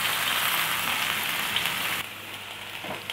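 Spinach hits hot oil in a pan with a loud, dense sizzle that drops abruptly to a quieter, steady crackle partway through.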